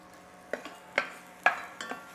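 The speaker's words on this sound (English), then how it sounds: "whisk in the grits." Stone ground grits whisked in a pot, a handful of distinct metallic taps and scrapes spaced about half a second apart over a quiet background, close and without talk.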